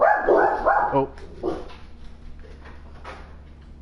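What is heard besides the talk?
dogs barking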